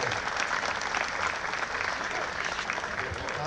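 Dense, steady applause from a large crowd at a 2018 public event, a continuous even wash of many hands clapping at once, moderately distant, with no clear voices on top.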